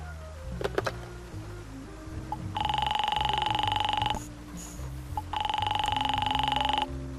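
Telephone ringing in the game Face Noir after a number is dialed: two long electronic ring bursts, each about one and a half seconds, separated by a pause, over a low background music bed.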